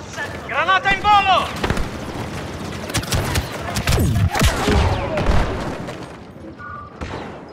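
Grenade blast and gunfire in the Star Wars Battlefront II video game, a dense stretch of booms, thuds and rapid shots, with voices calling out over the battle.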